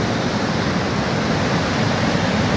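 River water in Gulmarg rushing steadily, a loud broadband roar of flowing current that stays even throughout, with no voices over it.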